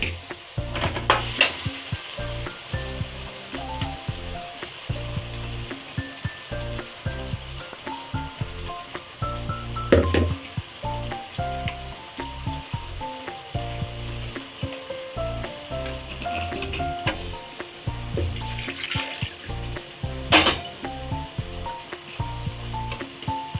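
Ground masala sizzles with tomatoes in a pan for a meen kulambu fish curry, a continuous close frying hiss broken by occasional stirring scrapes.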